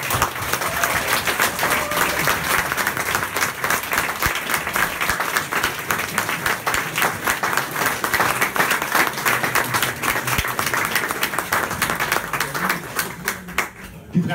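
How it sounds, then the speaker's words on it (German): Applause from an audience at a celebration marking 30 years of Sub e.V., a volunteer-run association, with dense steady clapping lasting throughout and a few voices mixed in before it thins out at the end. "ist ein kleiner Applaus wert."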